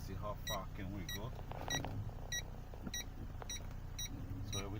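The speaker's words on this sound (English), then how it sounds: "So we hear the noise, that's when the sensor is working, it's beeping." Backup parking sensor on a 2009 Saab 9-5 beeping in a regular series of short electronic tones as the car reverses, with a faint engine idle and a person talking underneath.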